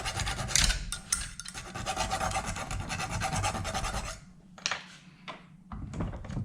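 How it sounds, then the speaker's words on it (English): A hand file rasps a burr off an aluminium part clamped in a vise between soft aluminium jaws, during a Ducati Desmoquattro valve clearance job: steady close scraping strokes for about four seconds, then a few shorter rasps. "I put it in the vise, some aluminium jaws, and I file that burr off"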